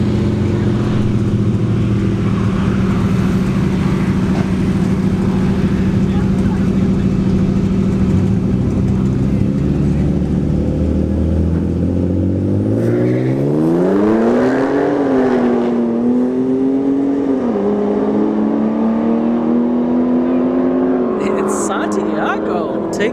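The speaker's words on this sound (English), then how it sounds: "Santiago here in the right lane of the F-150. And we got a Hellcat Charger in the left lane." A gutted Ford F-150 and a Dodge Hellcat Charger launch side by side down a dragstrip, their engines droning steadily and then climbing sharply in pitch through the gears. Both stay loud and close, and the roar fades as they pull away down the track.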